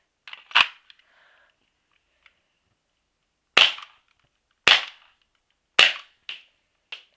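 An S&W M&P 40 airsoft pistol fires about six sharp, snappy shots, one early and then five in a quicker run after a pause, with faint clicks between them and no talking.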